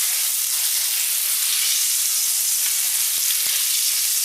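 A burger patty with onion sizzles in a pan, a steady bright hiss of frying fat with a couple of faint clicks, close and continuous with no voices.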